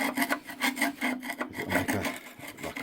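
A screw being driven into a refurbished wood-burning stove makes a close, continuous rasping grind with repeated scraping strokes and no talk.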